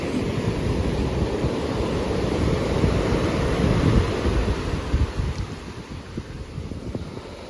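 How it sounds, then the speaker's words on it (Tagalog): Strong ocean waves surge and churn in a steady loud wash, buffeted by heavy wind noise on the microphone, with no voices. "Ang lakas po ng alon mga kababayan, no?"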